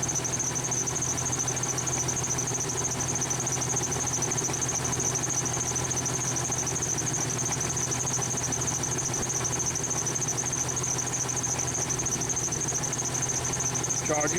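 A car engine runs steadily at raised RPM during a TopDon BT100W battery tester charging check, a constant mid-range hum and vibration that holds level throughout with no pauses.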